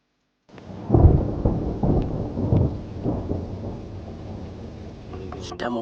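Thunder rumbles loudly before rain, rolling in heavy waves with several sharp cracks and then a long fading growl, with no voices over it.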